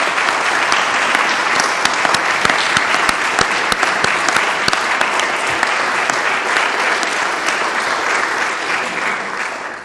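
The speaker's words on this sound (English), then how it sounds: "give a little bit of a round of applause for all the service he's done" A room of colleagues gives sustained, dense applause for a retiring colleague at a town meeting, with crisp individual claps standing out and the clapping gradually thinning toward the end.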